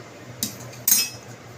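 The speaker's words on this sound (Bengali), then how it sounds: "এবার ঢাকা দিয়ে দেবো।" A metal lid set onto a cooking pot, giving two quick clinks: a light tap, then a louder ringing clank that fades. The sound is close and heard alone.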